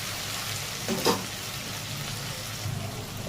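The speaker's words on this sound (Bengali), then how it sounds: "রসুনটা ভালো করে ভেজে নেবো" Garlic frying in oil with turmeric or Kashmiri chili powder for a prawn and pointed gourd curry, a low steady sizzle with one brief scrape of stirring, no talk.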